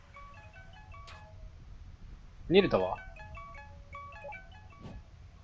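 An odd, jingly phone ringtone plays in the game To the Moon, a string of short melodic tones over soft background music, with a person speaking briefly in the middle.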